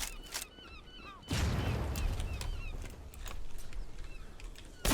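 Gunfire in the online shooter game Zula, with several sharp sniper rifle cracks and a burst of dense shots over a noisy battlefield background, moderately loud.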